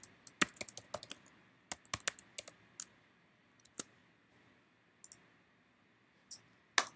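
Someone types a username and password on a computer keyboard, with quiet, irregular clusters of key clicks and pauses between bursts, close up in an otherwise silent room.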